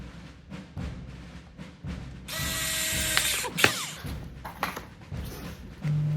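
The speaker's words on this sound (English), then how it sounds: "Drill in the holes because it will make it easier to put on the D-rings." A power drill bores a hole in reclaimed wood for mounting D-rings, a brief buzzing whir of just over a second amid ratcheting clicks and handling knocks.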